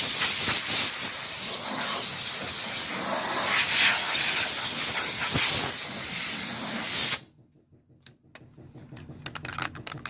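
Compressed air blasts in a loud, continuous hiss across a 1978 Chevy square-body truck for several seconds, then cuts off abruptly, leaving faint clicks and handling noises.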